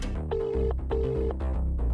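A phone's ringback or dial tone sounds twice in steady, even pulses over background music while someone calls the police, with no voices.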